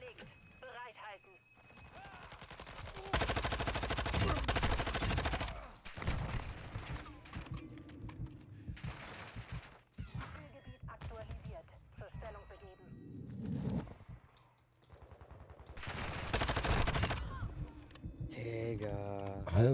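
Gunfire in Call of Duty: Modern Warfare 2 (2022) ranked play comes in bursts and dense volleys amid game sound effects, with speech heard throughout.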